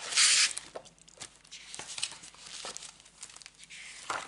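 Sheets of scrapbooking paper, including a tartan-patterned one, are handled close by, giving sharp bursts of crinkling and rustling between softer taps and quiet gaps.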